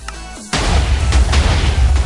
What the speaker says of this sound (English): Those are all exploding shells.